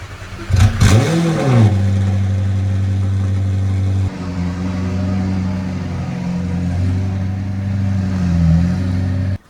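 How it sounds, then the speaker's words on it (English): A McLaren 720S supercar fires up from a cold start with a sharp rev flare that rises and falls, then settles into a loud, steady high idle with small blips, heard close with no talking. "Cold start on the McLaren."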